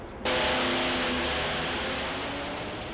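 A truck engine revs hard during a pulling run, bursting in suddenly with a loud, rough roar that holds steady and slowly eases off over a few seconds, close and alone.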